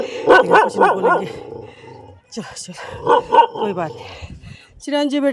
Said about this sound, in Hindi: अरे कुत्ता जैसे मुझे देखा ये भूखने आ गया, 2 कुत्ते आ गए